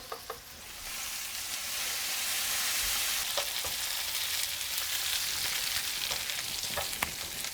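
Lemon zest sizzles and fries in a hot pan, a steady broadband hiss with occasional small pops and crackles running throughout, close and moderately loud with no talking.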